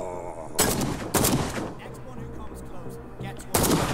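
Gunfire in a Call of Cthulhu video game: three loud, sharp shots spaced about a second or two apart, each with a short decaying tail, alone without talk.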